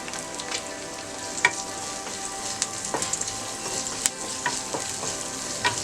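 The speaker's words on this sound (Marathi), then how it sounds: "एक ते 2 मिनिट आता परतून घेऊया।" Capsicum sautés with browned onion and a pinch of salt in a pan for egg masala fry, giving a continuous bright sizzle broken by scattered light spoon clicks.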